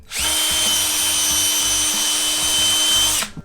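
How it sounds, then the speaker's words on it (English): A power drill whines at high speed for about three seconds, close and loud, with a grinding undertone as it bores holes in a 3D-printed plastic wheel before spinning down. "you also want to drill out the little holes"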